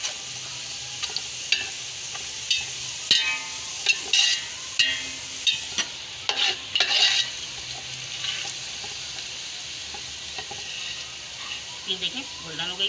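Onions fry golden in oil for a biryani, giving a steady close sizzle beneath a series of sharp stirring clinks and scrapes against the pan.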